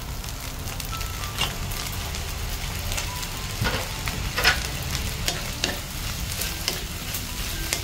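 Fried rice sizzles steadily in a hot pan with Maggi soy sauce just added, a dense constant crackle and hiss close by, with occasional sharper pops and the scrape of stirring.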